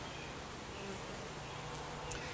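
Honey bees buzz steadily around an old hive with leftover honey and no colony, a dense, continuous droning swarm that holds at an even level throughout without pause.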